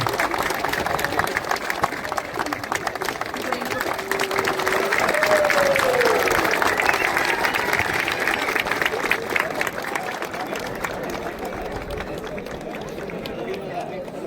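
An audience at a revenue department staff sports meet in Dandeli applauds, a sustained crowd clapping of moderate loudness with a faint tone sliding through midway.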